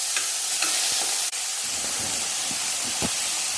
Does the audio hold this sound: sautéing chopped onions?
yes